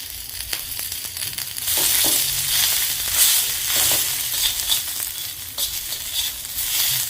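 Roasted onion sizzles in oil in a pan, a steady broadband frying hiss with occasional crackles and stirring scrapes, close and fairly loud throughout with no talking.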